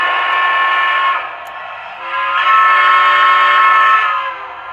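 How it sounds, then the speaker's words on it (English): Two close blasts from the air whistle in a Lionel model train tender, a shorter chord and then a longer, slightly lower one after a brief dip, sounding steady and loud with no voices. "hit the whistle"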